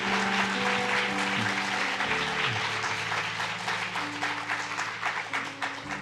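A church congregation applauds at a year-end worship service, a dense, steady wash of clapping from many hands that fills the room, with held organ or keyboard tones sounding underneath.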